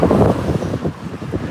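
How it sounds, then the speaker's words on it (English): Strong wind buffets the microphone outdoors under darkening clouds as the weather turns, a loud, uneven low rumble with gusty pulses and no talk. "windy."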